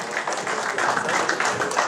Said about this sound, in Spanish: un aplauso al licenciado Octavio